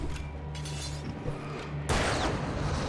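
A sudden blast from an exploder enemy in the game Alan Wake bursts out near the end, loud and close, following a low rumbling background of game noise without any speech.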